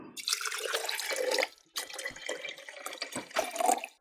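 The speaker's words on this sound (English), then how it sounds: "And I need to add 2 cups of water." Water pouring into a basil herb growing kit container with a cocoa coir disc, a close, continuous splashing stream that pauses briefly and resumes, heard alone.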